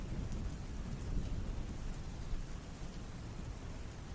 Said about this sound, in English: The rain pounded against the small stone home outside of the city of Corinth. The storm raged and the winds howled